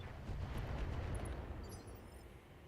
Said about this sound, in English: We could fire swarm missiles. We'll do the standard missiles.